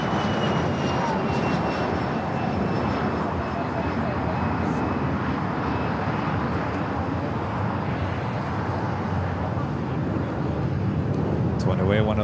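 A Boeing 787-8 Dreamliner at LAX makes a steady, loud roar that fills the whole stretch with broadband jet noise. A faint whine sits above it, and the engine sound holds near-constant throughout.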